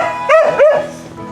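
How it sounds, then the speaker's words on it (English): A dog following someone lets out two quick, close yelping barks, a short sharp pair with no talking. "Hope this dog doesn't bite me"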